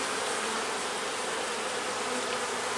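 Dense, steady drone of many honeybees crowding a hive frame during queen installation, a continuous close buzz filling the whole stretch with no voices.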